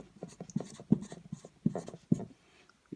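Pen or marker strokes on a board during a lesson on resistor color codes, a series of scratchy, uneven strokes with short gaps between them, close and fairly loud, with no voices.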